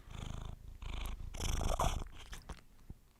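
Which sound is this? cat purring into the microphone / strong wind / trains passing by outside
cat purring into the microphone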